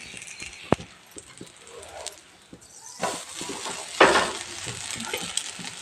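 Dosa batter made without soda powder fries on a hot pan, with soft scraping and clinks and then a sudden close, loud sizzle that flares up and keeps hissing.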